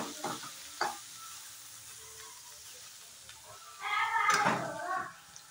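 Spinach fried and stirred in a pan: a few soft scraping stir strokes early on, then a louder burst of sizzling and frying near the end, without talk.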